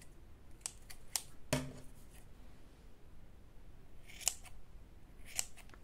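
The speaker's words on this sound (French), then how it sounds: "vous prenez vos ciseaux" Several crisp scissor snips cutting yarn for a shawl, spaced irregularly, with one louder cut near the start; quiet and close, no talking.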